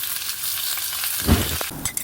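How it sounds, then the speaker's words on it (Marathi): Potato slices sizzle steadily as they fry in oil and ghee on a pan, a close, continuous crackle with a brief louder clatter partway through. "हे बटाट्याचे काप आपल्याला मस्त फ्राय करून घ्यायचे"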